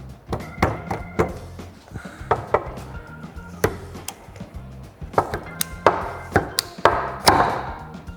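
Dnipro-M pruning shears cut through a branch in a series of sharp woody snaps and thunks, irregular and close, some in quick clusters, with no talking.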